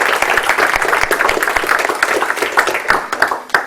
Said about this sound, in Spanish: Muy bien, podemos aplaudir.